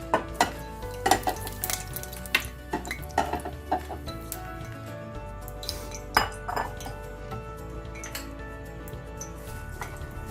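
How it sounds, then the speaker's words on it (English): A lentil tamarind stew pot with carrots and kale is stirred, giving irregular metallic clinks and scrapes of a utensil against the pot, fairly close, with a low background hum and no talk. "Give it a good stir."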